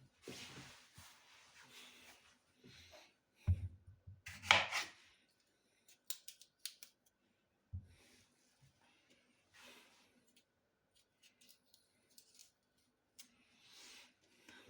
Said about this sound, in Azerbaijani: Belə bu şəkildə, yəni dilim-dilim doğrayırıq.